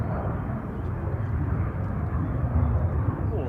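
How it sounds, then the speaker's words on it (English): A Ryanair airliner arriving from Tenerife at Manchester Airport, a low, steady broadband engine rumble held fairly constant and swelling slightly near the end, with no talk over it. "Ryanair coming in from Tenerife, EIHT, flight 4331."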